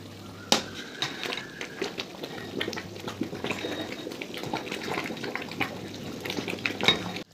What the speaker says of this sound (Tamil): அரிசி போட்டதுக்கப்புறம் நல்லா கிளறி விடுங்க.